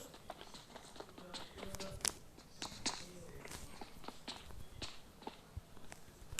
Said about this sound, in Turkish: Sanki ayak sesi var.